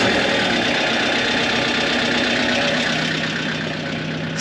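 Tractor engine idling, a steady, close, continuous mechanical drone with an even knocking texture and no voices.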